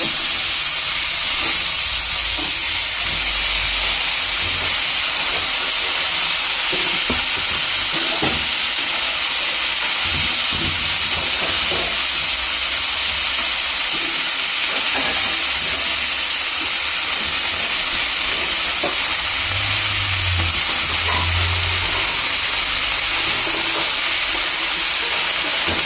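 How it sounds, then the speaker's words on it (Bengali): Cauliflower sizzles and hisses steadily in hot oil left from frying eggs, a loud continuous fry with occasional stirring clatter throughout. "ফুলকপিটা ভাজা করে নেব"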